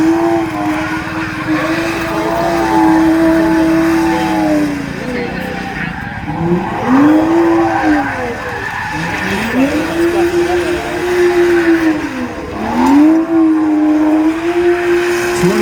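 A car's tires squeal loudly and continuously during a rolling burnout contest, the pitch wavering and swooping in repeated arcs over a rumbling engine, with a voice talking underneath.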